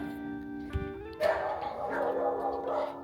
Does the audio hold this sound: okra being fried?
no